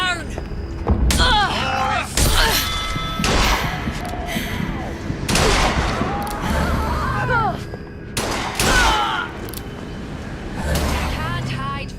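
Repeated gunshots and heavy booming impacts from a firefight in the video game BioShock Infinite: Burial at Sea, loud and dense throughout, mixed with game character voices talking over the action.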